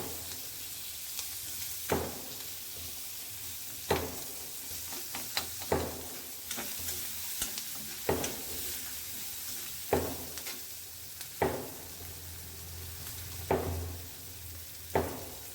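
Onions fry in oil in a pan, with a soft, steady sizzle broken every couple of seconds by sharp scrapes and taps as a spatula stirs them.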